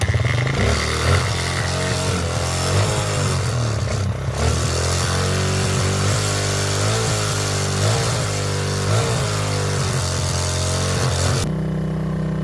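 A Suzuki enduro motorcycle engine runs steadily and loud up close, a continuous rumbling idle with slight rises and dips in revs, cutting off abruptly near the end.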